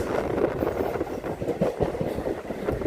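Retrofitted Mumbai local EMU train running near Kurla, a steady loud rumble with rhythmic wheel clatter throughout, no voices.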